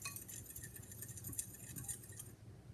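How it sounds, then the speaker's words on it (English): A spoon stirs a garlic and flour mixture in a bowl, producing light clinks and scraping taps against the bowl's sides, steady and close throughout with no talking. "we're going to stir that up"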